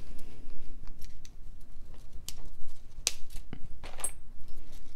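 Scissors snip open a strand of beads for a leather knotted necklace, with several close, crisp cuts and light clicks and rustles scattered across a quiet room.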